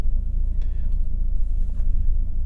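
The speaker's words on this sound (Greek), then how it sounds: "ήδη έχω βάλει εγώ μπροστά και είμαστε στο ρελαντί" Alfa Romeo with a Selespeed gearbox idling, a steady low engine rumble held close and even throughout with no voices.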